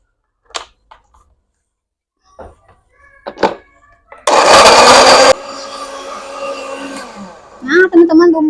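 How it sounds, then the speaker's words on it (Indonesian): A blender roars on loudly for about a second, then settles into a steadier whirring grind of spice paste with water, with a few light clicks and clatters before it. "Sekarang Bunda mau blender bumbu dulu teman-teman ya"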